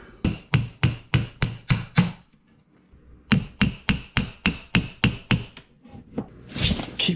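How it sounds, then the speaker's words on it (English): A hammer strikes a chisel to open a box in two rapid runs of about seven sharp, evenly spaced metallic blows, close by, with a short pause between runs. "Can't say I've ever had to use a hammer and chisel before."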